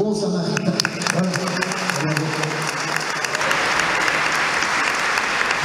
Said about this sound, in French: Alors on applaudit le bon Samaritain.